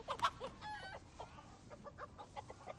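A chicken clucking in a scene from the TV series The Boys, faint, repeated short clucks and squawks in a quiet setting, with no voices.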